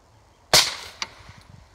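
A single sharp AR-15 rifle shot at a fire extinguisher outdoors in New Zealand, loud and close, followed by a smaller crack and faint scattered ticks as it fades.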